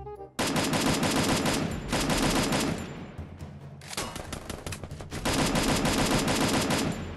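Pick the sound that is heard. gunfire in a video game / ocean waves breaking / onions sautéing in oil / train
gunfire in a video game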